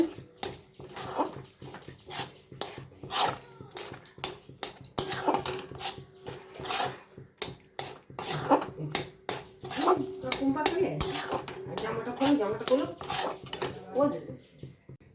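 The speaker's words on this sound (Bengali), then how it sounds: "এবার এটাকে এইভাবে নেড়ে নেড়ে আমি শক্ত করে নেব" Chhena for mango sandesh stirred and pressed in a pan over a low gas flame, giving repeated scraping and clinking knocks of a spoon against metal, close and fairly loud, in uneven bursts with talking at times.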